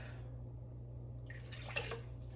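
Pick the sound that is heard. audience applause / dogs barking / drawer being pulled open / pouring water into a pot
pouring water into a pot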